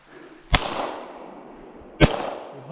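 Two sharp, loud gunshots about a second and a half apart ring out at a shooting match, fired at small steel targets, each blast trailing off in a long outdoor decay.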